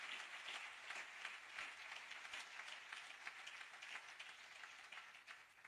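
A church congregation at a Sunday sermon applauding to acclaim God, a dense, steady wash of many hands clapping, heard faintly and at a distance with no talk over it.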